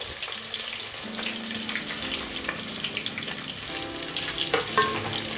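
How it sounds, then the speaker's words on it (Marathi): Slit green chilies and sliced onion frying in oil for Hyderabadi chicken dum biryani, a close, steady sizzle with stirring scrapes and a faint background hum, no speech. "दोन ते तीन आपण स्लीट केलेल्या मिरच्या आपण टाकून देणार आहोत तिखटपणासाठी आणि याच्यामध्ये आपण हा स्लाईस केलेला कांदा आपण याच्यामध्ये टाकून देणार आहोत"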